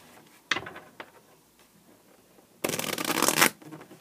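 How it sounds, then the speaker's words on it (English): A deck of cards is given a quick riffle shuffle: a few soft taps and handling clicks, then a dense, close burring flutter of cards riffling together for about a second. "I'm just going to give them a quick riffle shuffle."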